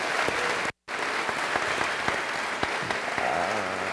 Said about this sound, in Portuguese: Mais uma salva de palmas para eles, por favor